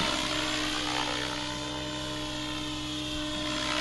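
Align T-REX 700E PRO DFC flybarless RC helicopter in forward flight, a steady loud rotor and motor whine with constant buzzing tone and no talking.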